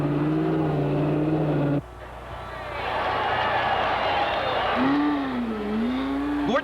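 An Indy race car limping through the pits on three cylinders at the 1981 Indianapolis 500, its rough engine note rising and wavering among other cars roaring past, with crowd and track noise around it.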